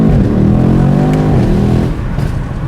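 A Mercedes-AMG E63S sedan accelerates hard, its engine note climbing loudly and steadily through the revs before easing off near the end, close and with no talk over it.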